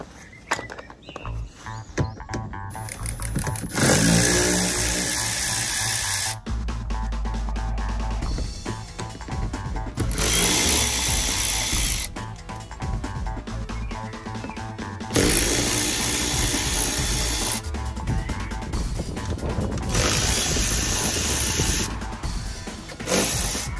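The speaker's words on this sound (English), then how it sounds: "I've got my old faithful Milwaukee electric ratchet" A Milwaukee electric ratchet in use while a front lip spoiler is fitted to a BMW 1 Series Coupe E82. Several loud, whirring bursts of a few seconds each are separated by quieter handling noise.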